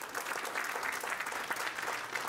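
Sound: audience applause

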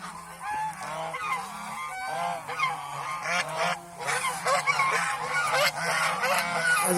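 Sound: geese honking on a goose farm

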